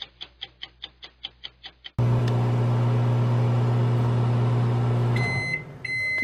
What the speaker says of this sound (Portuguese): E ele vai diretamente pra onde? Exatamente, pro micro-ondas.